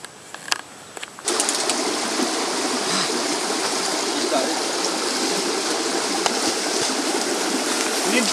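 Steady broadband rush of a flowing river, loud and continuous after a brief quieter moment with a few knocks at the start.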